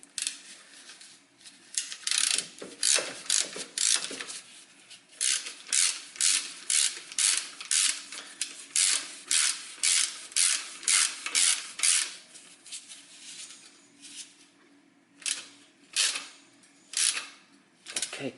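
Ratchet wrench turning a 19mm socket on a car's rear spring bolt, crisp rapid clicking in repeated bursts separated by short pauses, close and clear with no talking.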